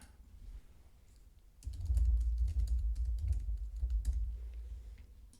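Someone types a password for a camera on a computer keyboard, a quick run of key clicks starting after a quiet moment and continuing steadily, close and fairly soft, with a low hum underneath.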